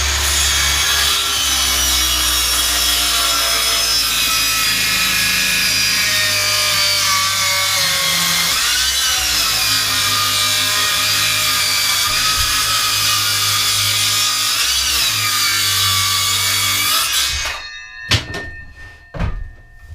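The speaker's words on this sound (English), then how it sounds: "I'd still be sawing the second leg by now" Continuous, loud rasping of a hand saw cutting a wooden stool leg for most of the clip, then stopping abruptly followed by a few scattered knocks.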